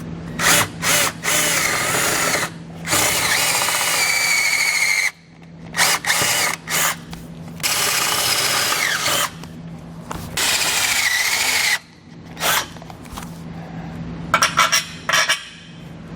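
A power drill enlarging bolt holes in the frame of a 2020 Ford Fusion, running in repeated loud bursts of a few seconds each with short pauses between, whining steadily as it bites into the metal.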